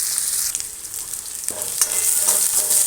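Chopped vegetables and tomato sauté in a hot pan with a constant bright sizzle, broken by a few soft stirring scrapes as the mixture is turned. No voices.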